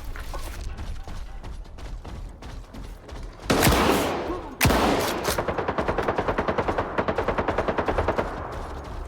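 Machine-gun fire in the Stalker 2 video game, rapid bursts of automatic shots with a loud blast near the middle, followed by a fast, evenly spaced rattle of gunfire.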